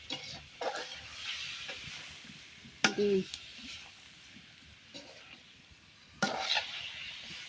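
Taro leaf greens sauté in a pan, with a soft, low sizzle and intermittent stirring scrapes, broken by a few sharp clanks of utensil on pot and faint background sounds.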